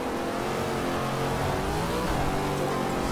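A big V8 engine revving hard in Forza Horizon 2 while driving, a loud continuous roar that climbs and holds, close and dominant with no talk.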